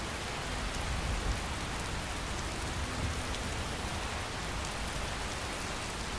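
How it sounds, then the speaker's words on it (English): Steady rain falling in the game Skyrim, a dense even hiss of drops on surfaces running unbroken throughout at moderate level, alone with no voices. "God, that's depressingly rainy."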